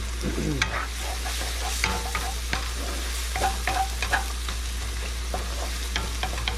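Homemade ginger garlic paste sizzles in a hot oiled pan while being stirred for chana bhatura, a steady close frying hiss broken by scraping and clinking strokes of the spoon.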